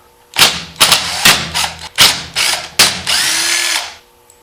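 A power drill backs screws out of a Makita 3600B router during a bearing replacement, running in about seven short, loud, close bursts separated by brief pauses, with the final burst held longer.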